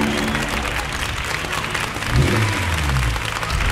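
At a toy car race, a crowd cheers and applauds in a dense, noisy burst with some low rumbling mixed in, loud and continuous throughout.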